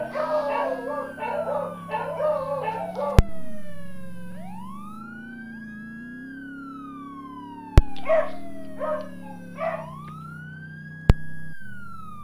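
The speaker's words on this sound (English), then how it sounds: "My dogs were barking up a storm." Dogs bark in quick clustered bursts alongside a rising and falling police siren in a Roblox game, with loud sharp clicks cutting in between the barking spells.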